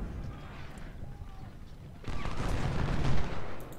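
Artillery and rifle fire in the Civil War strategy game Ultimate General: Civil War, a low, continuous rumble of distant gunfire that swells louder about halfway through, with a voice talking faintly over the battle.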